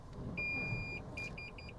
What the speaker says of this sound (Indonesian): Kalau kalian dengar suara sensor parkirnya